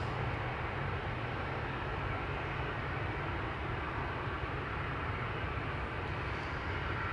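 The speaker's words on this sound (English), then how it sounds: "737s lining up and coming this way." A Boeing 737 taxis at Amsterdam Schiphol airport, producing a steady, broad jet-engine rumble and whine that holds evenly throughout, moderately distant with no voices.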